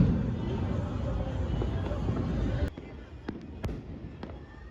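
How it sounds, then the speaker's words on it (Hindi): Night-time fireworks and firecrackers, including parachute rockets, go off during a festival celebration as a dense crackling roar, then a few separate sharp pops and bangs ring out after it thins, with faint crowd murmur behind. "सब रात को पैराशूट और पटाखे जला रहे थे"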